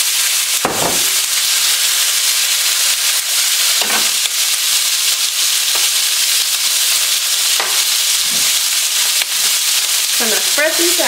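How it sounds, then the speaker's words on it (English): Steady, dense sizzling of potatoes frying in a hot pan, a constant crackle throughout with occasional soft clinks and stirring sounds. "That's kind of sizzling, so we'll go ahead and get our potatoes in here."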